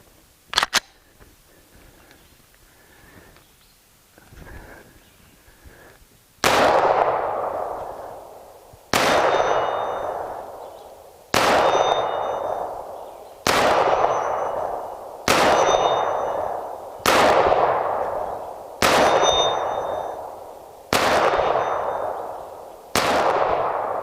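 Nine loud, evenly spaced shots from a suppressed Glock 17 9mm pistol, each a sharp crack with a ringing metallic tail from a struck steel target, after a few quieter clicks and handling noises.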